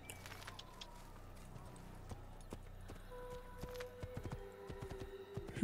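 Horse hooves clip-clopping at a steady walking rhythm in the Assassin's Creed video game, fairly quiet under faint game ambience and music.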